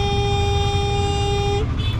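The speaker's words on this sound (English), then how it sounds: "Everyone's gonna honk." A car horn blares in one long, loud tone over rumbling traffic in India, then cuts off, followed by a brief fainter honk.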